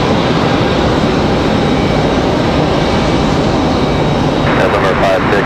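A heavy jet departs Raleigh-Durham International Airport with a loud, broad, sustained engine roar that holds steady throughout, with talk faintly mixed in.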